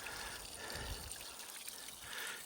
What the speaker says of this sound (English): Nice flowing little mini creek here